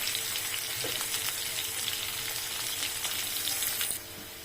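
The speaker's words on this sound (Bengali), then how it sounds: "পেঁয়াজ ভাজা হয়ে গেছে" Onions frying in a pan for a winter home-cooked Bengali meal, a steady close broadband sizzle and crackle that runs unbroken for about four seconds, then drops to a quieter, softer hiss at the end.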